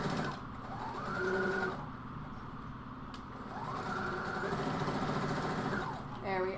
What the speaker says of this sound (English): All right, let's finish sewing this.